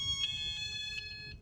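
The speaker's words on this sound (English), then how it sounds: "So they've got a bell and they've also got a little alarm on here as well." A small campervan security alarm gives a thin, high electronic tone with rapid pulsing beeps, steady and fairly faint against a low background hum, with no voices.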